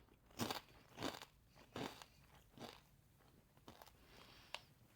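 Pimento cheese potato chips crunched while chewing, about five crisp bites in a loose rhythm, up close and faint, then softer crackles, with no talking.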